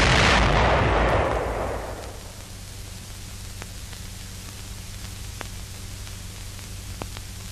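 A demolition charge from an engineer armored vehicle blows a gap in a wall: one loud, close blast opens the clip and roars for about two seconds, then fades to a low rumbling hiss with a few faint ticks.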